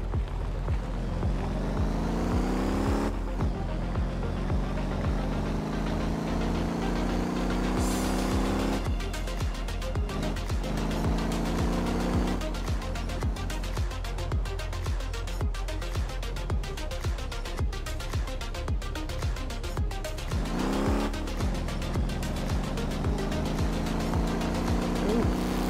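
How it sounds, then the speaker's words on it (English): A taxi car drives in a video game, its engine a steady droning hum whose pitch rises and falls with shifts in speed, running continuously and loudly for the whole stretch. "I can drive a taxi now"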